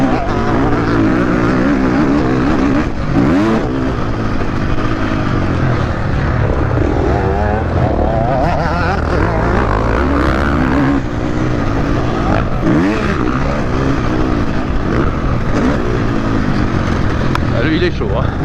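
Motorcycle engine running at low revs, a steady loud rumble throughout with shifting throb, while someone talks over it.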